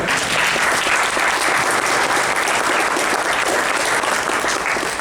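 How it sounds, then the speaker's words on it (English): A convention panel audience breaks into loud, sustained applause for comic writer Jimmy Palmiotti at a Batman panel, a dense continuous wash of clapping filling the room. "give a clap for Jimmy Palmiotti"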